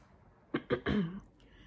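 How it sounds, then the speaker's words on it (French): Three sharp, barking croup-like coughs from a woman, the last one longer and hoarser, close and isolated against a quiet background. "Quand je tousse, je jappe. Un peu comme le faux croupe, je pense."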